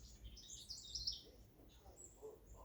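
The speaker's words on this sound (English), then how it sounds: "Some bird." A bird calls outdoors near a porch, faint thin chirps scattered over a couple of seconds against low background rumble.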